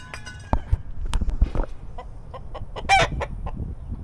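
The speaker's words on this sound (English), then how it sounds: "This damn chicken's assaulting me." A chicken clucks repeatedly at close range in a series of short, uneven bursts, with one louder squawk partway through, over faint background shuffling.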